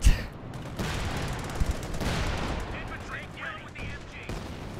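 Gunfire crackles in the World War II strategy game Company of Heroes 2 during a Normandy invasion battle. A sharp shot opens, then scattered rifle and automatic bursts follow at moderate distance amid battlefield din, with a voice speaking over part of it.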